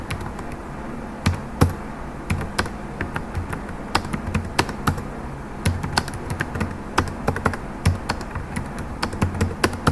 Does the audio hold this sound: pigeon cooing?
no